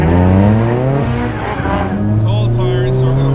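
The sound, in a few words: car driving on a race track on cold tires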